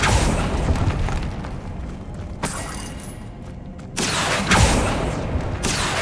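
Magical spell effects in the Hogwarts Legacy video game, Depulso then Accio, heard as a creaking, mechanical rumble broken by sharp booming bursts and crashes.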